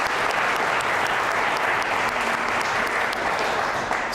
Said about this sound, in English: let's give another round of applause to our judges for this evening